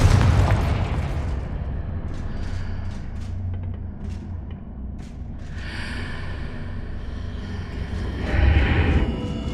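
A Confringo blasting spell explodes in Hogwarts Legacy, a loud booming burst at the start with rumbling debris and swelling effects trailing after, a second surge near the end.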